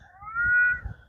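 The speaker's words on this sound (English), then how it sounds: "He is just meowing his face off." Fernando, a cat sitting on a stump outdoors, lets out a single drawn-out meow, close and clear, rising and falling over about a second with little else around.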